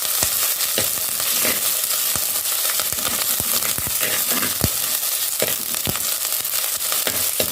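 Onion and curry leaves frying in a pan for a Mangalore-style mackerel curry, a loud, steady sizzle with scattered crackles and pops throughout.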